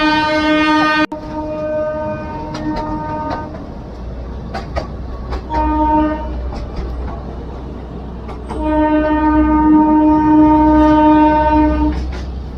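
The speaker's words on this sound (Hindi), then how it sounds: "घरों के काफी नजदीक से गुजरती इस ट्रेन की आवाज कोसों तक गूंजती है।" A Gwalior narrow gauge light railway train on two-foot track passes close to houses, sounding loud, repeated horn blasts over a steady low rumble of the moving cars.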